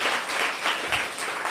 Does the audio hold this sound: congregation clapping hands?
yes